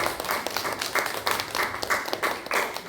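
A congregation at a Korean church praise service claps in a quick, regular rhythm, with a bright, even pattern of hand claps and no speech over it.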